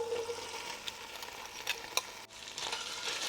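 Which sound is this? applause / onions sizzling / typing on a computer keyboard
onions sizzling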